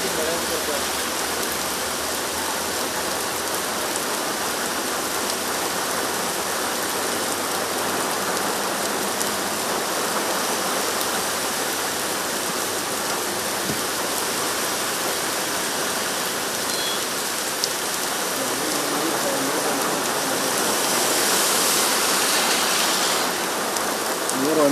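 Heavy rain pours down in Bengaluru city in a steady, dense hiss that holds evenly throughout and swells slightly toward the end.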